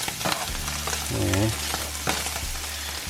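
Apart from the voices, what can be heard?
halloumi sizzling while frying in a pan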